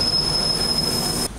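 In London, a train's wheels screech against the rails in a loud, sustained, high-pitched metallic squeal that cuts off abruptly near the end.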